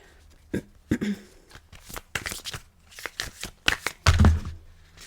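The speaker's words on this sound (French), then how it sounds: "Désolée, il y en a beaucoup. J'ai du mal à les mélanger." Dixit playing cards from the Révélation expansion being shuffled by hand, a few separate riffling bursts of papery flicks spread over several seconds, near and moderately loud, with no talking.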